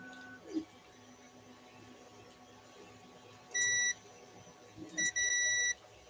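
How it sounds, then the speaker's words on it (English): A multimeter beeps during a continuity check on connector pins shorting to earth: two short electronic tones, the second a pair of quick beeps, fairly clear over a quiet background hum. "why did I get a beep there?"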